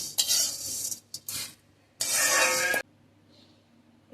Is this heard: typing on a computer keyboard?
no